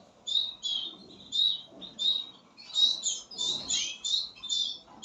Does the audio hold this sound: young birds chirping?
yes